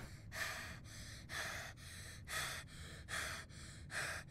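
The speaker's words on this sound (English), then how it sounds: "why are you breathing so hard?" Heavy, rhythmic breathing close up, about five strong breaths in just over four seconds, each a broad rushing huff with a quieter pause between, alone with no speech.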